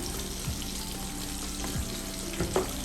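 Thick pieces of fish fry in a pan of sizzling oil, giving a soft, continuous crackling hiss with a few faint clinks and splashes, and no talk.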